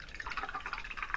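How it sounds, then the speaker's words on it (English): Paintbrushes swished and rinsed in a pot of water during an acrylic painting session, giving a soft, steady run of close, small watery sloshes and drips with no talk. "just wash my brushes"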